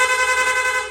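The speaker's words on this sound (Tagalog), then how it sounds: "pwede natin gawing rapid horn, no? Long press lang po natin yung horn switch." A PIAA horn on a Yamaha Aerox V2 scooter sounds in rapid mode, one loud, bright, close blast that pulses quickly and evenly for about a second before cutting off.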